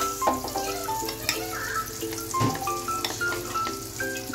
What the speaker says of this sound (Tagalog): Dapat, guys, matunaw yung butter.